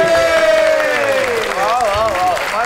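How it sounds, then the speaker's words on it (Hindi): A studio audience applauds to welcome a guest on a Pakistani comedy talk show, with steady dense clapping throughout and a wavering tonal voice or melody running over the top. "आपकी बहुत सी तालियों में"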